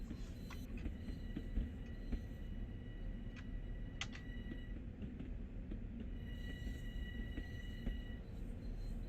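A Long Island Rail Road train rolls past in Train Sim World at a suburban station at sunset, a steady rumble of wheels with high squeals and clicks rising and falling over about nine seconds.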